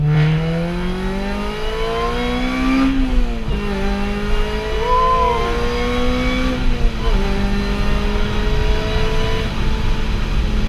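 A supercharged Honda Civic Si FA5 pulls hard in second gear, its engine note climbing steadily with a high supercharger whine. A short dip comes as the revs ease, then the engine climbs again, loud and close from inside the car.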